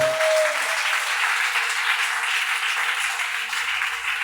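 A church congregation claps and applauds steadily in a broad, sustained wash of hand claps, a short voice fragment heard at the very start.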